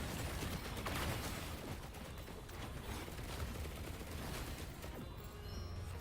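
Turrets in the game Risk of Rain 2 fire a steady, busy clatter of rapid shots, fairly quiet and with no talking.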